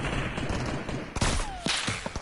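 Rapid gunfire from Fortnite in a battle royale team rumble, dense bursts of shots with sharp loud cracks, one standing out midway, and no speech.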